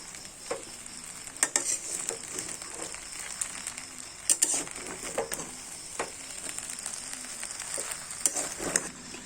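Pasta and sauce stirred in a pan, with a bright continuous sizzle and repeated scraping knocks of a utensil against the pan, close and fairly loud, no voices.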